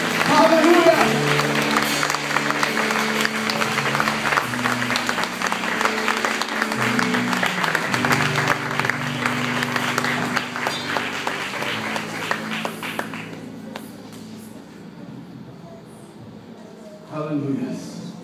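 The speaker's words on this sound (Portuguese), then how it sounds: "dê uma grande salva de palmas ao nosso Deus" A church congregation applauds during a live worship service, with continuous clapping mixed under loud music and voices, easing off near the end before the sound swells briefly again.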